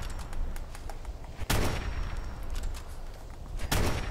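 Gunfire in the video game Fallout 4: bursts of rapid shots over a dense, rumbling battle din, with two especially loud, booming blasts standing out.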